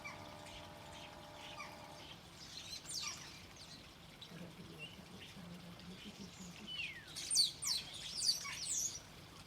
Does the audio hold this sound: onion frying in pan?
no